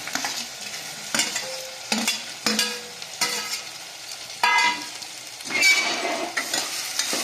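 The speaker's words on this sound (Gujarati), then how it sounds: "અને ગુવાર અને બટેટા બે નાખી દઈશું." Cluster beans and potatoes go into a hot pan and are stirred, with close, repeated scraping strokes over a steady sizzle and a few clinks of the spoon on metal.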